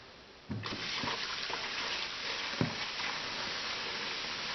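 Tap water pours steadily into a container for a salt brine of half a cup of salt in half a gallon of water, starting abruptly and running as a continuous close gush with small splashes.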